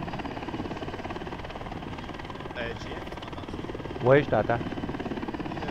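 Helicopter in ArmA 3, a steady rotor thrum and engine drone running throughout at close range, with someone speaking briefly over it.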